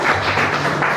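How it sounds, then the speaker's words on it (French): Audience applause for a band manager at a press conference, a dense steady clatter of many hands filling the whole second at moderate loudness. "Applaudissez le manager."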